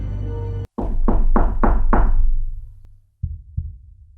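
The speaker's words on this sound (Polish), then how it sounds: "Pukanie. Krótkie, głuche, bez echa. Jak paznokieć o szybę." Inside a parked car in a Bieszczady forest at night, a burst of five quick, dull, evenly spaced knocks sounds loud and close, followed after a pause by two softer knocks.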